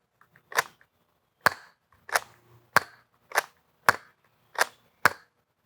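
An Adventure Force Blitz 6 six-shot toy blaster fires long-range darts, each shot a sharp, dry snap followed by a short mechanical tail; seven crisp pops come at roughly even intervals against near silence, with no talk.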